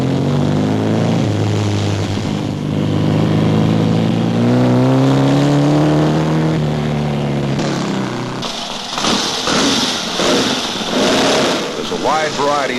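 Enduro cross-country motorcycles race by, engines droning and revving with rising and falling pitch, then a rougher burst of several machines accelerating; loud and continuous, with a voice talking over much of it.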